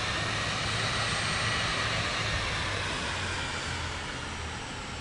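A small aircraft taxiing after clearing the runway in Microsoft Flight Simulator 2024 gives a steady, loud engine drone with broadband roar that stays constant throughout.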